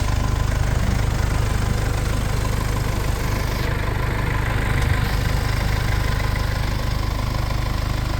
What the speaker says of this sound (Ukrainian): Двигунчик працює